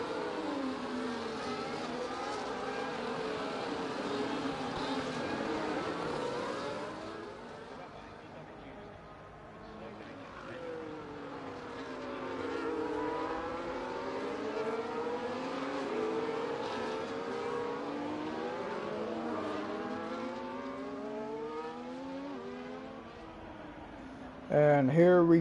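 Race cars on track in a racing video game, a steady engine drone with pitch sweeping up and down, heard under continuous commentary.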